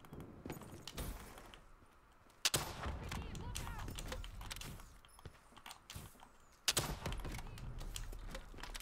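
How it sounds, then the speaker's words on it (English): Rocket launcher fire and explosions in Call of Duty Black Ops 3 Gun Game: two sharp, loud blasts a few seconds apart amid steady gunfire and game clatter, with a player talking over the action. "Rocket launcher."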